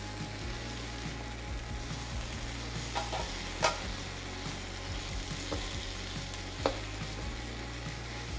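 Ground beef frying over medium heat in a pot for kimchi soft tofu soup, a soft steady sizzle with a few sharp scrapes and clicks from stirring, heard alone.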